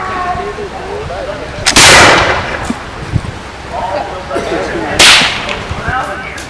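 Loud black-powder gunshots crack twice at a Seminole battle reenactment, each blast followed by a decaying rumble, with people talking faintly in the background between shots.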